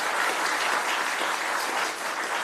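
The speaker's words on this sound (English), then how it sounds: "Let's give them another round of applause" Steady, dense applause fills a county commissioners' meeting chamber as the audience claps for award recipients, close and even with no talking over it.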